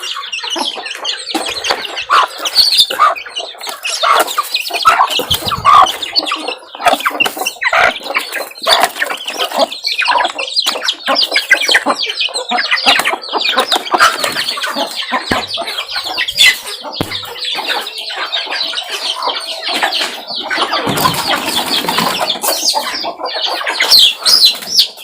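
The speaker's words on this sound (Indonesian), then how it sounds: "itu ayam saya, teman-teman, ayam jantan" Dense, loud clucking and squawking from a flock of chickens close by, with a rooster's crow and some wing flapping mixed in.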